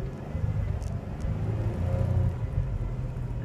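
A 2013 Jeep Wrangler Unlimited drives slowly in four-wheel drive low, heard from inside as a steady, low engine and road rumble at moderate volume with no talking.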